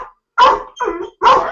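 A dog gives three quick, loud barks in close succession, each short and sharp, with a small pause between the first and second.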